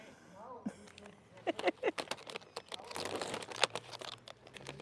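Pistachios being cracked and eaten, with sharp clicking snaps and crinkly shell crunches in irregular bursts close by, mixed with soft voice-like sounds at the start.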